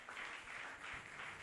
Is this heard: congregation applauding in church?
yes